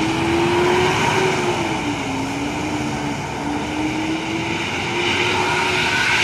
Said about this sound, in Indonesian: itu knalpotnya sangar ya